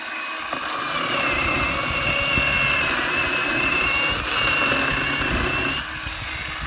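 An Einhell GE-PS 18/15 L cordless pole saw cutting a small branch, giving a loud, steady, high motor whine with a cutting rasp that runs for several seconds before easing off near the end.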